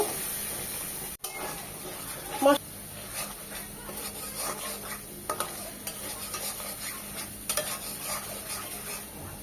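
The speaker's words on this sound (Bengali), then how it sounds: "মশলাগুলো খুব ভালোভাবে কষিয়ে নেবো" Ginger-garlic paste with turmeric, chili and cumin sautéing in a pan for a boal fish curry, a continuous close sizzle with occasional scraping stirs and a sharp knock near the start.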